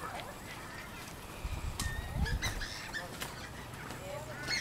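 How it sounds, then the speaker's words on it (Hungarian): Several honking duck calls in a park, close and fairly loud, repeating irregularly over outdoor background noise with a few scuffling sounds. "Nézd a kacsa."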